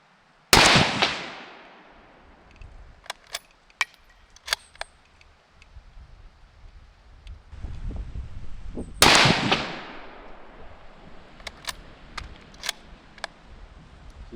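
Two sharp, loud shots from a Winchester M70 .308 bolt-action rifle, each ringing out with a decaying echo, followed by a string of crisp metallic clicks and clacks as the bolt is cycled.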